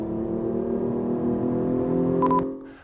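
The 3.8-liter V6 of a 2015 Hyundai Genesis Coupe, fitted with an intake noise generator, gives a steady harmonic engine drone that rises gently in pitch, then cuts off after a couple of brief, sharp high tones.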